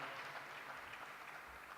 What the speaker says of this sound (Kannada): ಅವರಿಗೆ ನಾವು ಜೋರಾಗಿ ಚಪ್ಪಾಳೆ ತಟ್ಟುತ್ತಾ ನಮ್ಮ ಧನ್ಯವಾದವನ್ನು ಸಲ್ಲಿಸೋಣ